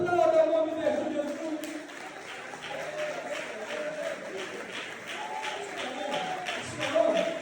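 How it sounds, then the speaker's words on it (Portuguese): A church congregation claps in a moderate, even patter of applause beneath a voice and chanting speech that continue throughout. "irmãos, aplauda o nome de Jesus"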